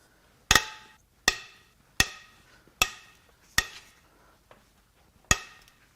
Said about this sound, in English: Now, we can crack these head bolts loose.